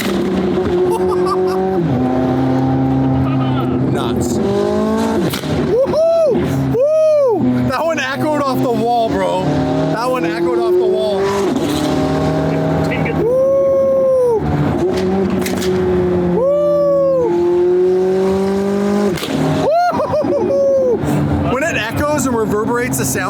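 A Lamborghini Aventador engine roaring loudly while driving, with repeated rising and falling revs echoing sharply, under excited talking and whooping from the people inside.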